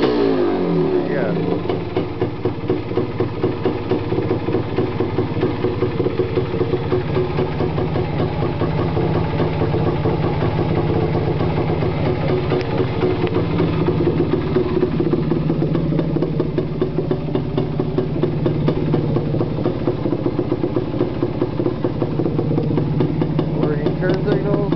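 A Yamaha DT250 motorcycle idles steadily after a cold start, its engine running loud and continuous throughout with a rough, even rumble.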